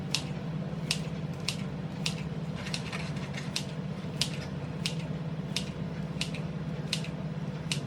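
Kitchen scissors snip through several slices of turkey ham in a home kitchen, about a dozen crisp, evenly spaced cuts over a low steady background hum, no talking.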